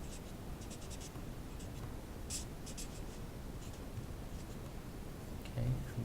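A pen writes out physics equations on a surface, making faint, close scratching and tapping strokes in an uneven rhythm over a low steady background.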